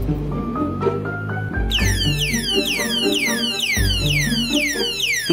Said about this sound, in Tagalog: Tara, subukan natin sa motor habang naka-on ang alarm.